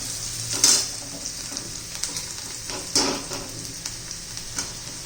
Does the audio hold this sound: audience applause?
no